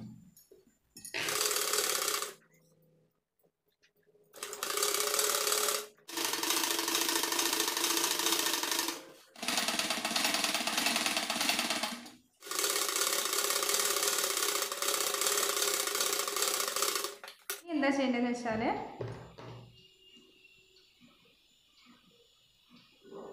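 A sewing machine stitches a cross-cut piece around a churidar's round neck, running in several loud sustained bursts separated by short pauses, ending with slower clicking handwheel turns.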